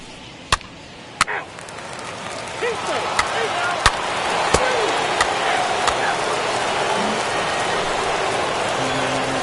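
Rain falling in the baseball video game MLB The Show 21, a steady hiss with sharp knocks and thumps at intervals, while a commentator's voice talks over it.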